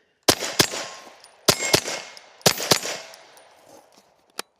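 Ruger firearm fired on a shooting range while working around barricades: several sharp, loud shots in quick pairs and short bursts with brief pauses between, each followed by a short echoing decay.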